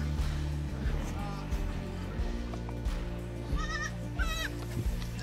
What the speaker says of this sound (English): I'm corralling these goats, y'all.